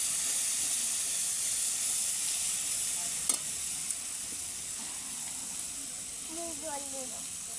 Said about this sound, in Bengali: একটু ধনে পাউডার, একটু লঙ্কা পাউডার দিয়ে দিচ্ছি। একটু নেড়ে নিচ্ছি।